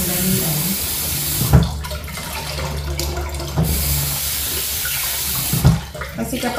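Rice being rinsed under a running tap at a kitchen sink, a steady stream of water with a few louder splashes and sloshes as the grains are stirred, carrying on with no talking.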